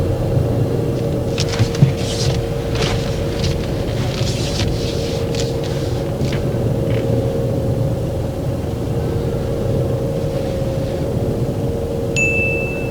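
A car idling parked in a bay after a driving test: a steady low engine hum and rumble, close and continuous, with a few faint clicks and a brief chime near the end.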